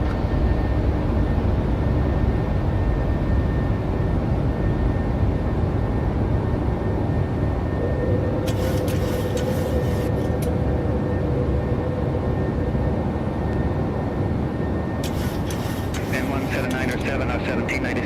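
Boeing 737-600 jet engines roaring as the plane climbs after takeoff from Anchorage, a steady loud rumble throughout with brief mechanical clunks, while cockpit voices talk over it.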